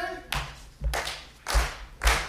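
Audience at an improv comedy show clapping a steady beat together, four loud, evenly spaced group claps in a row, close and punchy.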